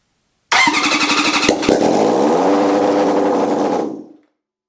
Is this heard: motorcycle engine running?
yes